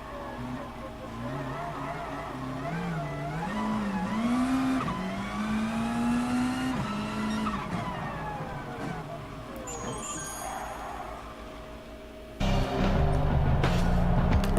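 A race car in Gran Turismo Sport laps a wet infield course on Northern Isle in the rain, its engine revving up and down through gear changes with hissing spray, near and loud throughout.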